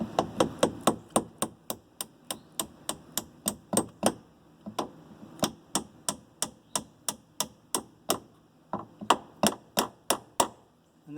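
A hammer taps a door pin into place on a 1982 Mercedes 300TD, giving a long series of sharp, close metallic knocks in quick even runs, broken by short pauses.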